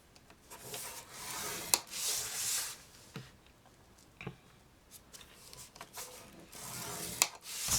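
Paper being scored for a pop-up valentine box, faint rubbing and scraping strokes with a few sharp ticks, quiet and close with pauses between passes, no talking.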